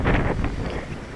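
Strong wind gusting and buffeting the microphone outdoors near a building's doors, a loud, continuous roar with rough low rumble that swells early and stays steady throughout.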